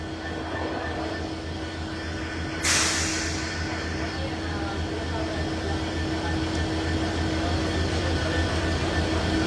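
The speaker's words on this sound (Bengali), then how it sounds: "এই যে ট্রেনটি দেখছেন এটি হচ্ছে কপোতাক্ষ এক্সপ্রেস ট্রেন" The Kapotaksha Express train passes Rajshahi station in heavy rain, a continuous rumbling roar mixed with the steady hiss of the downpour, with one sharp loud burst early on.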